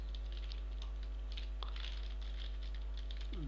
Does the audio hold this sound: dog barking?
no